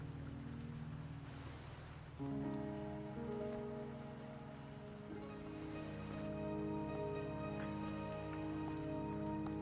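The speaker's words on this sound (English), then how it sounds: "Are you trapped here by the rain?" Steady rain falls in the game Wuthering Waves, a dense even hiss of drops with faint distant thunder, layered under swelling game music with sustained tones.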